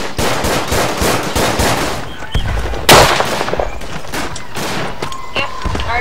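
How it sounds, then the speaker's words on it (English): Rapid machine gun fire in the World War I shooter Verdun, loud rattling bursts of shots repeating steadily, with one sharp heavy blast near the midpoint and scattered gunfire afterward. "Why did I spawn into like machine gun fire?"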